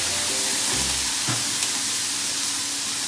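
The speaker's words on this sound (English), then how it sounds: "And we're going to go ahead and steam it again." Cajun sausage steams and sizzles in a hot pan, giving a steady, close frying hiss with a few low clunks early on and no talking.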